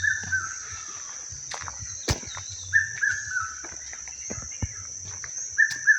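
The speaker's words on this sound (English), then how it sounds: "The birds are calling." Birds call outdoors in a natural setting: short repeated chirps near and far, with occasional footsteps and rustling but no talking.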